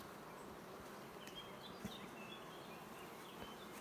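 Honeybees buzzing around a hive frame, a dense continuous hum of many insects close by, fairly soft, with a few individual bees droning past and no talk.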